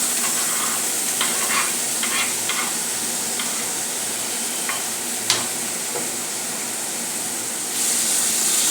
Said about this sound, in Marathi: अशा प्रकारे आता हे टमॅटो घालून घेऊया.